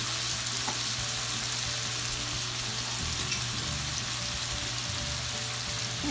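Tomatoes sizzling steadily in a hot pan after a pinch of salt goes in, for matar keema, a loud continuous frying hiss close up with no voices.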